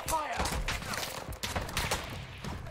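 Sniper gunfire in Call of Duty MW2 DMZ: several sharp cracks and thumps in quick succession, mixed with busy game noise and player voices.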